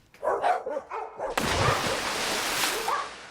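A dog barks several times in quick succession, then a broad rushing burst of noise takes over and holds for the rest of the clip.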